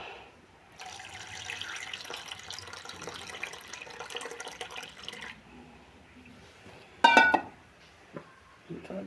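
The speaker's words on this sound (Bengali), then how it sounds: "দুধ দিচ্ছি, এবার ভালো করে মিক্স করবো।" Milk is poured into a pan of melting sugar for pudding, a steady liquid splashing and trickling for several seconds, then a brief sharp clatter and a few quieter stirring noises.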